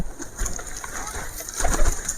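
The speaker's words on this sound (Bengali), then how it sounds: "কবুতরগুলো এখন সব ছাড়া আছে" Pigeons coo softly and repeatedly nearby amid a busy, noisy background of flapping and rustling.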